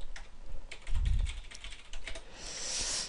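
Typing a master password on a computer keyboard for a KeePass password manager, a quick run of close, crisp key clicks with a brief low thump partway through and no talking.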